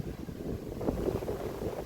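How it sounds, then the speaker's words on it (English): Wind blowing outdoors across open land after a tree came down, heard as a continuous low rumbling buffet against the microphone with gusty swells, close and fairly loud, no voices. "This wind"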